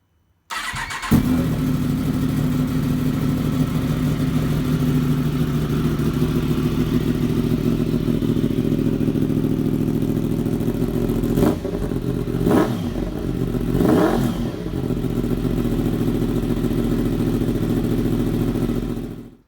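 Yamaha MT10 motorcycle with an Akrapovic link pipe starting up after a short crank, then idling loudly and steadily with a few sharp throttle blips and revs partway through.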